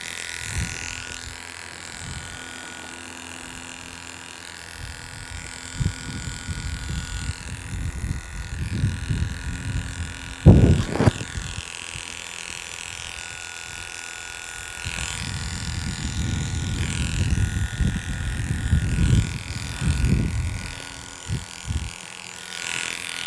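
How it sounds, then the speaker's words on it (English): Electric clippers and a shaver work over a horse's face during grooming, blending the coat with a 30 blade; a low steady buzz runs throughout, with louder close bursts as the blade meets the hair. "I take the shaver again and blend one more time."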